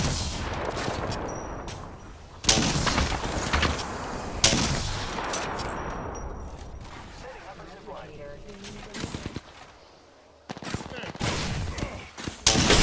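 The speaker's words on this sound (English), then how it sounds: "The enemy is shooting at me." Bursts of gunfire from an Apex Legends match ring out repeatedly, with heavy sharp shots and rapid volleys crowding the clip, punctuated by louder blasts, while game sounds and effects fill the gaps between.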